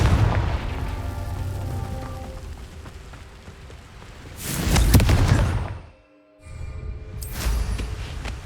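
A Confringo fire-spell explosion in Hogwarts Legacy, heard as a broad rumbling burst that swells to a loud peak, cuts off sharply, and is followed by another crackling surge.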